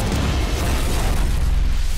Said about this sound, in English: It's a grenade I tied to a Russian tank shell.